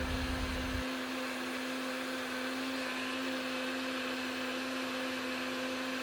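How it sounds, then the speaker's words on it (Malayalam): A blender whirs steadily while making Brazilian lemonade, a loud continuous motor drone with a strong steady hum that holds unchanged for about six seconds after a brief thump at the start. "ബ്ലെൻഡ് ചെയ്യാം."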